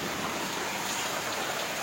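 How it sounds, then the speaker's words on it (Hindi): Heavy rain pours down steadily as a dense, even hiss of water hitting surfaces nearby, continuous and loud with no pauses or voices. "जोरे वर्षा हो देखो"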